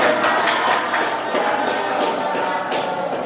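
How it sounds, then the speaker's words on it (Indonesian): Classroom pupils clap together after a lesson presentation, a dense continuous patter of many hands at close range that fades slightly toward the end. "Beri tepuk tangan"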